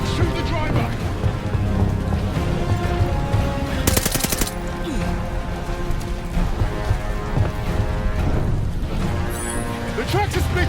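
Gunfire in a Call of Duty: Vanguard cinematic: rapid bursts and scattered shots over a dense rumbling battle and vehicle noise, with one sharp loud burst in the middle.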